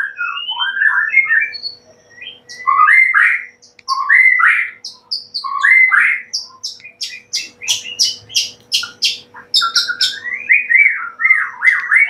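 A white-rumped shama sings close and loud, a continuous run of varied whistles, chirps and rapid trills with no talking.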